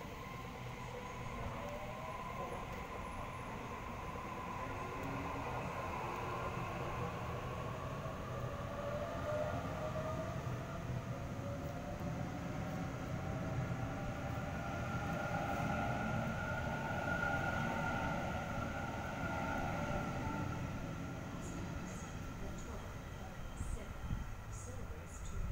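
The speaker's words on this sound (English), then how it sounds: "Brand new Waratah set, B2, now departing from platform number 2." Brand new Waratah electric train set B2 on a Lidcombe service pulls away from a platform at Belmore station in Sydney, a steady rising motor whine building over constant rumble, fairly close, with faint voices in the background.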